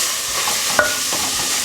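Vegetables being stirred through hot oil, a dense steady sizzle close by with one brief metallic clink of the utensil against the pan.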